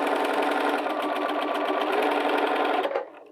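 A Bernina 325/335 sewing machine runs at full speed in a steady, close, fast needle chatter that holds evenly for about three seconds and then stops abruptly.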